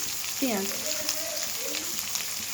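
Chopped green chillies sizzle in hot oil in a pan while cooking spicy fried taro greens, a steady close frying hiss running throughout with a voice talking briefly over it.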